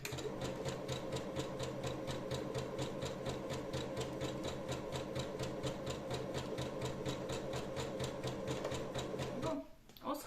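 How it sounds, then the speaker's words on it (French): A sewing machine runs steadily for about ten seconds, stitching a single-fold hem on socks, a fast even mechanical rattle up close that stops abruptly near the end. "je vais faire ça à la machine à coudre"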